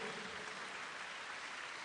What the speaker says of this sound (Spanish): Fuerte aplauso a Jesucristo de Nazaret.